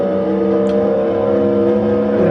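A Toyota Corolla racing in the TORCS game hums with a loud, steady engine drone, holding a constant pitch with no talk.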